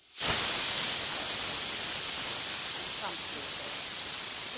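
A loud, steady hiss of steam rushes out abruptly from a pressure cooker whistle and continues without pause.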